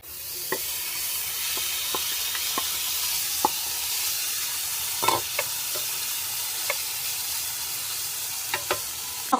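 Bacon sizzles steadily in its own rendered fat in a pan with no added oil for carbonara, a close continuous hiss broken by scattered pops and occasional utensil clicks, with no talking.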